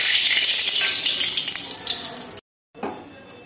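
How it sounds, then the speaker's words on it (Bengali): Dried fish (shutki) frying in a pan, a loud steady hiss and crackle of hot oil that cuts out abruptly and resumes more faintly. "এখন শুটকি মাছগুলোকে ভাজবো।"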